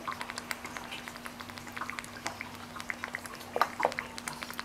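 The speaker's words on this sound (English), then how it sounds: "pour the rinsing tea over the teapot" Rinsing tea poured over a clay teapot to season it during gongfu tea brewing, a quiet trickle and splash of liquid with faint drips and small taps, close and soft, with no talk.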